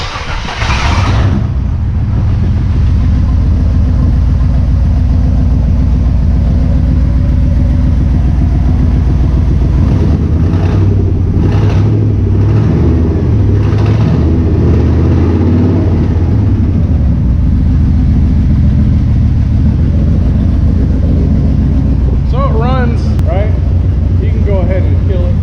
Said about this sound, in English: it's running and starting, and it actually kind of revs up without dying afterwards